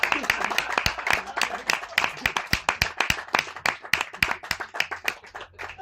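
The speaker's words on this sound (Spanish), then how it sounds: "Un aplauso fuerte." An audience at a film presentation at the Sitges festival applauds loudly: dense, sustained clapping from many hands at close range, with some voices mixed in.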